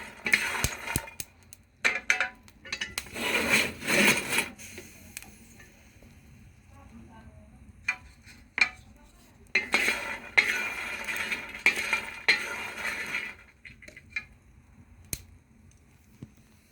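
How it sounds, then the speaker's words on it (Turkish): Chickpeas and peanuts are roasted on a flat iron pan on the stove and stirred. Bursts of scraping and rattling from the stirred legumes come in irregular clusters, with quiet gaps and sharp clicks between them. "Şöyle yenisini saçta kavuruyorum ben ocakta."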